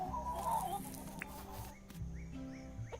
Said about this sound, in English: Demon chicken going on there.